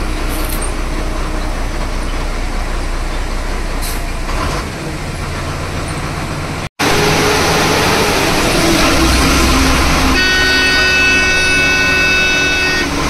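On a narrow road near the Ajanta caves, a vehicle horn sounds loudly and continuously over steady engine and road noise, holding a sustained tone toward the end.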